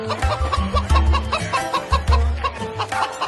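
A live chicken clucks in a rapid, uneven series of close, fairly loud bursts, a rooster-like fowl chattering continuously with no talk over it.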